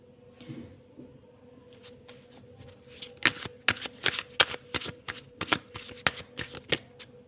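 Tarot cards being shuffled and drawn, a quiet start giving way to a rapid run of crisp riffling and slapping card sounds, close and clear, with no talk.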